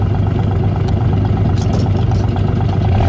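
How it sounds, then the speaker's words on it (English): A 1972 Plymouth Duster's 225 Slant 6 engine runs with a loud, steady, close rumble and a rough, even pulse, holding at a fairly constant speed throughout. "let's give it a rev"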